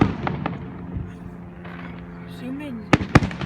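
Fourth of July fireworks pop and crackle at a distance, with a pair of sharper close bangs near the end, while people talk over the outdoor night background.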